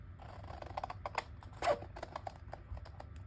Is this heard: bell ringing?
no